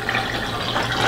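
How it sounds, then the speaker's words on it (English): Wash water draining out of a Giantex washing machine, a steady close gushing and trickling flow with a low hum underneath, continuous and even throughout. "the wash water is draining out"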